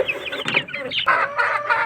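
Chickens cluck close by in quick, irregular bursts, several short calls overlapping with no talk.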